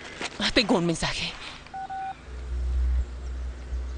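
A phone dials a call, a quick run of touch-tone beeps following a short spoken line, then a steady low hum from the handset.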